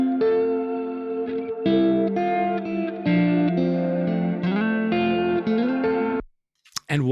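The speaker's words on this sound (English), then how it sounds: "old delay reverb." Distorted electric guitar through a Kemper Profiler with an older delay and reverb setting, sustained chords and notes ringing with echoes for about six seconds, then stopping abruptly before a brief trailing noise.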